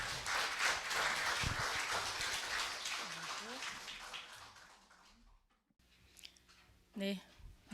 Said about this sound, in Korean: 여러분 큰 환영의 박수 부탁드립니다